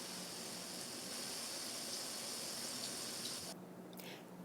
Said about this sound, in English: So this is the first rinse,